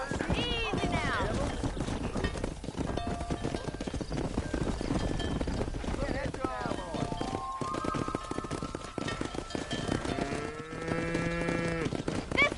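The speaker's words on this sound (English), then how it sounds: "Herd the cows down the road." A cattle herd being driven down a road in the video game Red Dead Redemption lows and moos repeatedly, mixed with clopping horse hooves and shuffling movement, while people talk over the scene.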